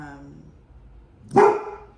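A dog gives a single sharp, loud bark near the end, right after a short stretch of a person talking.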